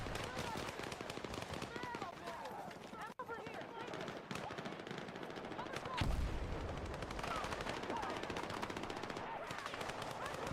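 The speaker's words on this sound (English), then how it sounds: "Why is he shooting at me?" Video game gunfire, with rapid machine-gun bursts and overlapping shots rattling continuously, loud and dense, while a voice talks intermittently underneath.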